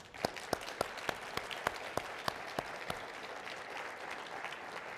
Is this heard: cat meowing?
no